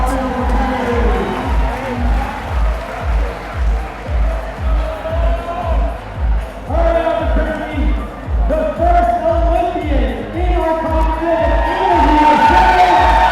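Spectators at an evening USA Climbing competition cheer and roar as a climber just misses the finish hold, a loud sustained crowd wash under a commentator's steady talk, swelling near the end.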